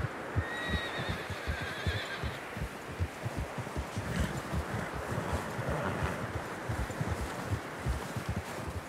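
A horse in Red Dead Redemption 2 snorts and blows amid steady rhythmic thuds and rustling through fresh snow, with wind-like noise underneath.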